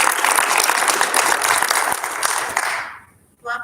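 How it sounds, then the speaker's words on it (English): Audience at a school board of directors reorganization meeting giving a round of applause, dense steady clapping that fades out near the end before a voice resumes speaking. "I think a round of applause for Mrs."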